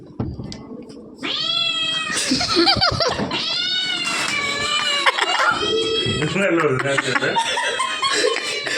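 At a wedding-day family gathering, a cat meows repeatedly in drawn-out, wailing calls close to the microphone, with people chuckling and talking around it.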